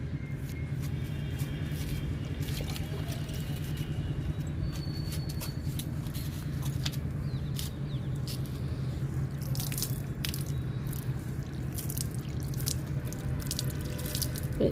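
Water runs and splashes steadily over a flowering plant being washed, with scattered drips and taps, close by, while a low rumble hums underneath throughout.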